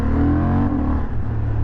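A Honda Hornet CB750 parallel-twin motorcycle with an SC Project exhaust and quickshifter revs loudly and close, its engine note sweeping up briefly before easing off into a steady rumble.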